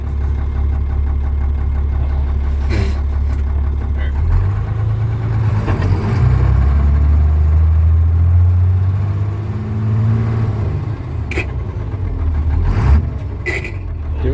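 International dump truck with a DT466 diesel engine running steadily close by, throttle held and eased with rising and falling engine tone, a rough mechanical rumble throughout, with a few faint knocks on top.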